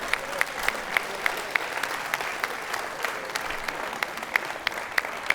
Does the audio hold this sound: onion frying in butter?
no